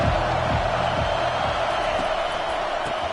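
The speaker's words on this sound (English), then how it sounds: "Decibels rising as the crowd gets behind this defense on third down" A football stadium crowd roars continuously on third down during a college game, a dense wash of cheering and whooping that holds steady throughout, with a few faint thumps underneath.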